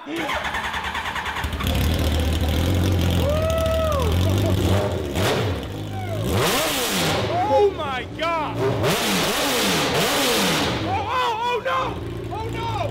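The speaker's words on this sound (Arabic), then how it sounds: "ولحسن حظهم المحرك بيشتغل من اول مره" A Hayabusa motorcycle engine fitted in a mini truck cranks and catches, then revs up and down in rising and falling bursts, loud and close, with some clattering in between.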